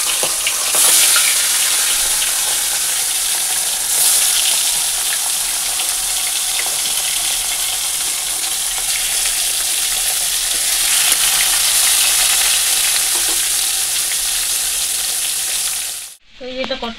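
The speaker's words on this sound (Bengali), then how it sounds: "তেলের মধ্যে হলুদ দিয়ে দিয়েছি," Turmeric dropped into hot oil in a kadai sizzles loudly and steadily for a long stretch, a dense close-up crackle and hiss that stops abruptly at the end.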